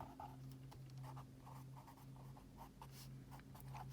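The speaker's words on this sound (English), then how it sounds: "So I think I'm actually going to write that down." Pen or pencil writing on paper during a prime factorization math lesson, soft rhythmic scratchy strokes close to the microphone over a faint steady low hum, with no voices.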